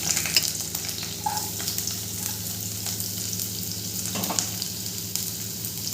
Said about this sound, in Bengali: তেলটা গরম হলে সবজিগুলো আমি একটু নেড়েচেড়ে ভেজে নেব।